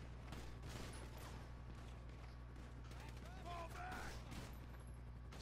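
Rapid bursts of gunfire in GTA 5 crackle through a busy game mix, fast repeated shots spread across the clip at moderate distance over a steady low engine-like drone.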